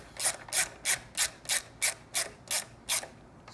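A 12mm wrench ratchets while snugging up a bolt on a 4-inch Predator carbon slip-on exhaust on a Triumph Street Twin: nine crisp, evenly spaced clicks at close range, with no talk.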